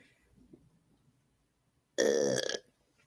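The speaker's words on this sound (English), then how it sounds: "I was trying to get a good burp for you guys" One loud, close, wet-sounding burp lasts about half a second after near silence, with faint rustling before it.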